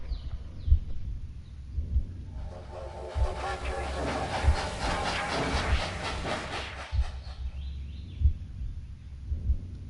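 A train rolls along the rails in the Sherlock Holmes Crimes & Punishments game, giving a steady low rhythmic clatter of wheels at even intervals, with a louder rushing hiss swelling in the middle and fading again.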